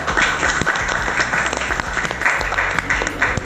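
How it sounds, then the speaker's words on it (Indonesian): Students clapping in a classroom, a close, moderately loud burst of applause with sharp individual claps over a few seconds. "Oke, berikan tepuk tangan buat Cheryl."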